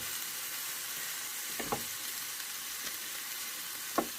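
Broken-up chunks of tinned mackerel cook in a dry non-stick pan with a faint, steady low sizzle and a few soft scraping stirs.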